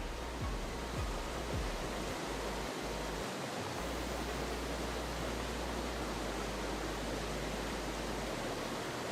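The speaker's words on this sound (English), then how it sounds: "There's another waterfall in here." A video game waterfall gives off a constant, full rushing roar with no breaks, steady and enveloping, like water pouring heavily into a pool close by.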